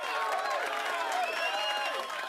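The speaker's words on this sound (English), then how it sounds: "I love this audience cheering all in the background" A live audience at 3DEXPERIENCE World 2022 cheering and clapping in the background, a steady crowd roar and whistles under a speaking voice.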